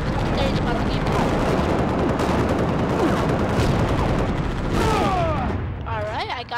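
Sustained bursts of gunfire from the video game Halo Reach, dense and loud, continuous rattling shots that thin out near the end as a voice briefly talks over them.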